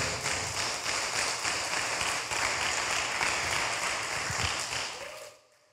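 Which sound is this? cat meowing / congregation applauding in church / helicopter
congregation applauding in church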